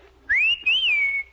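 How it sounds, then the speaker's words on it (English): A person whistles loudly through pursed lips to flag down a bus: one shrill, rising-and-falling whistle of about a second, close and clear, alone without talk. "Whistle for the bus to stop."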